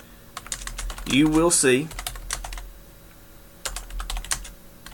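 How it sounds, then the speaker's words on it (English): Quick bursts of clicky computer keyboard typing come in uneven runs under a person speaking, with pauses between bursts. "when you type"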